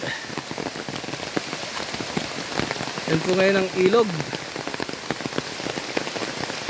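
Heavy typhoon rain pours steadily, pattering hard on surfaces, with someone speaking briefly partway through.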